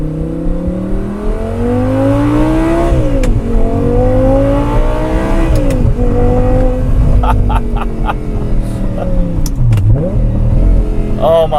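An Audi R8 with an aftermarket exhaust revving hard toward its 8,700 RPM redline, heard from inside through the open rear window: loud rising engine howls that climb, drop and climb again through several gear changes, close and sustained.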